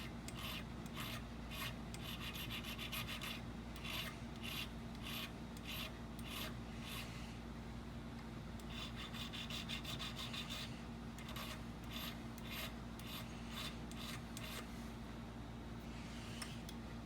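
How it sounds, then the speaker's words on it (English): A small hand file rasps the first cut of a key for an antique three-lever desk lock, a rhythmic series of quick scraping strokes in short groups, faint and close over a steady low hum. "Hit it with a little file on that number one cut, just to make sure"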